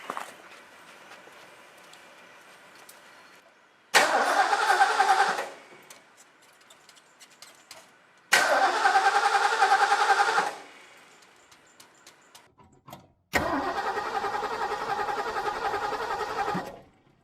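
The carbureted engine of a 1970 Ford Mustang Mach 1 cranks in three long bursts of rapid, loud starter churning, separated by pauses, without catching and running.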